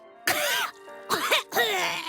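Three harsh, close coughs in quick succession, loud and rough, with short gaps between them.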